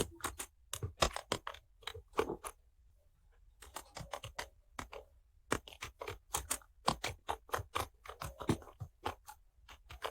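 A title is typed on a computer keyboard in quick bursts of close, crisp key clicks, with a short pause in the middle and no voice.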